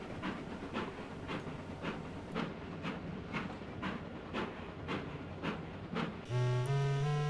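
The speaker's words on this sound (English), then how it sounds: "the two small diesels shunted more trucks in place" Two small diesel engines shunt railway trucks, with a steady rhythmic clatter of wagons rolling for several seconds before a loud, sustained horn-like tone cuts in at the end.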